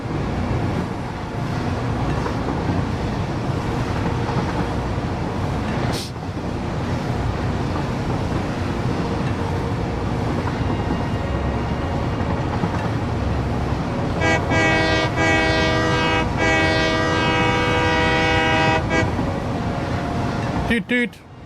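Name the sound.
train passing and horn in Satisfactory video game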